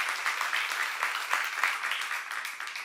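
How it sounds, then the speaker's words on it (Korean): A church congregation applauding during a seminar, dense steady clapping from many hands filling the room for a few seconds, with no voices over it. "박수 한번 하세요"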